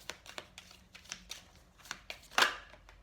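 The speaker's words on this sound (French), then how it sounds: "Allez, on mélange les cartes parce que je vais en prendre des différentes." Tarot cards being shuffled by hand close up, a quick run of crisp riffling flicks in a steady rhythm that ends in one louder snapping burst.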